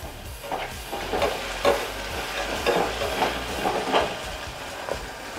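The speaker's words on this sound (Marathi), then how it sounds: "बटाटा टाकतोय, हे पण परतून घेतो. चांगला परतून घेतोय." Potatoes sautéed in a pan for moong dal khichdi, with a steady frying sizzle and a rhythmic stir-and-scrape roughly every second, close and moderately loud, with no talk.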